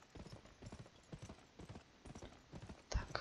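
Horse hooves clip-clop in a steady trotting rhythm in the Western video game GUN, moderately close, over a low background rumble, with a sharper thud near the end.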